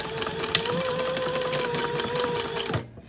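A sewing machine runs steadily for almost three seconds with a continuous humming whir, then stops abruptly; it is being used to stitch a two-sided strap for a crossbody bag, tote or wristlet.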